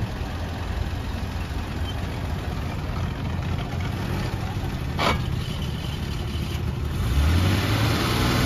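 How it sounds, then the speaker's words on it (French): A Jaguar MK2 idles at a Paris supercar gathering, its low engine rumble steady amid street noise, swelling slightly toward the end. "Oh, c'est beau ça, Jaguar MK2."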